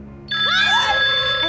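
A phone rings with a loud electronic ringtone, steady bright tones layered with sweeping melodic notes that start abruptly and continue to the end, close and clear over a faint room hum.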